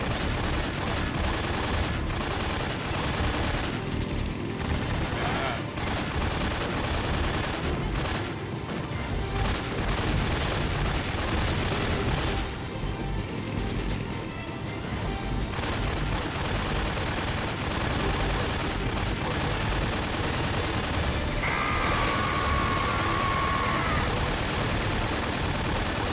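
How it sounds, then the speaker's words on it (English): Gunfire aimed at gun turrets in Metal Gear Solid 3: Snake Eater, sustained rapid machine-gun bursts and repeated shots in a dense, loud barrage with occasional booms, lasting throughout. "We gotta try to shoot back at it. Maybe we can take out the gun turrets."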